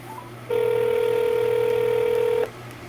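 A telephone keypad sounds one steady tone lasting about two seconds while dialing a realtor's cell phone number, loud and close, with no talk.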